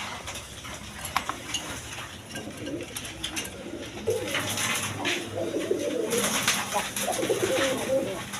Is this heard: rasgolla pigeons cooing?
yes